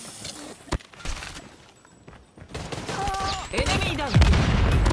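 Gunfire in a Call of Duty multiplayer tournament match: sharp shots and a rattling burst crack out between quieter moments, with players' voices talking over the action.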